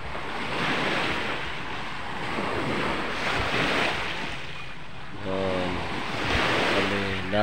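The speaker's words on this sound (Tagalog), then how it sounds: "Ayun ang dagat namin dito." Sea waves wash steadily onto the shore at IKP Beach facing Samal Island, a broad continuous surf roar with gentle swells, mixed with wind buffeting the microphone; a low engine-like hum joins near the end.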